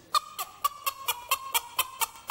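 A hen clucking after laying an egg, a regular series of about ten short, sharp clucks in an even rhythm, moderately close and fairly quiet, with no talk over them.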